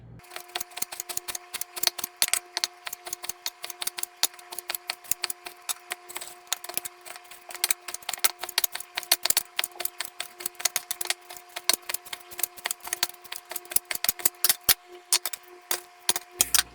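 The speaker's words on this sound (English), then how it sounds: "We are going to cut it into a 1/4 inch thick." A knife slices 16 ounces of raw beef into quarter-inch-thick pieces, giving rapid, fairly regular sharp taps against the board over a faint steady hum, close and light.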